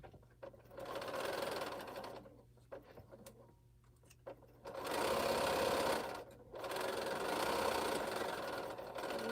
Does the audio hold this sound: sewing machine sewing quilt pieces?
yes